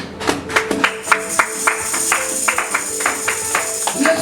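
Church congregation clapping in praise of the Lord during a worship service, steady rhythmic handclaps repeating at a brisk even pace, moderately close with no talking.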